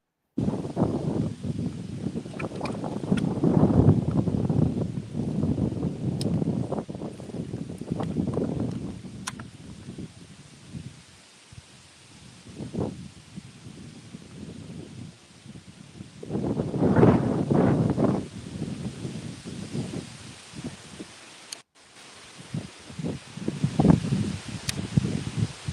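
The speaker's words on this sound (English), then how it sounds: "this wind is rocking" Strong gusty wind buffets the microphone outdoors on the water from a fishing boat, rising and falling in rough rumbling surges with some rustling, no talking.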